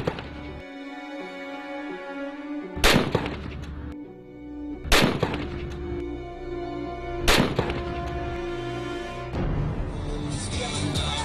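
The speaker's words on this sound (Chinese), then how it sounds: "黄磊的射击发挥稳定" Rifle shots at an international army combat skills competition: four sharp, loud cracks spaced a couple of seconds apart, ringing over steady background noise and machinery hum.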